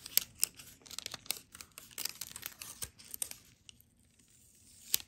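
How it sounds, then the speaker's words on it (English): A paper instruction booklet from an Apple EarPods box is unwrapped, giving close crinkling and tearing rustles in quick irregular bursts that fade toward a quiet stretch before one last crackle. "Unwrap that."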